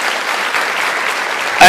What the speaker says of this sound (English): Misty gets applause. One Page gets applause.